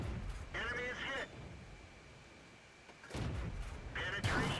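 Sharp gun blasts from a T21 light tank in a video game, two loud bursts a few seconds apart with quieter ambient game sound between, under someone talking.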